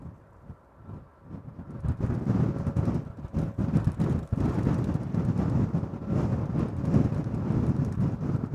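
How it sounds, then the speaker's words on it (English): Gusting wind buffets the microphone at Amsterdam Schiphol Airport, a rough, rumbling roar that builds and stays strong with irregular surges. "Meanwhile, the wind seems to be picking up. It's definitely not slowing down."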